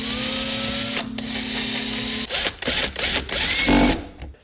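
A power driver runs screws into the shifter boot of a Ford Ranger during clutch work: a steady whirring hum, then short bursts of buzzing and ratcheting as each screw seats, close and fairly loud.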